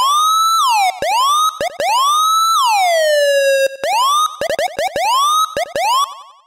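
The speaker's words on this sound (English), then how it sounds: "right here I've recreated a Dub-Siren sound" A dub siren synthesized on a Novation MiniNova wails in repeated rising and falling pitch-envelope sweeps, loud and electronic, with sharp chirping restarts between the longer swoops.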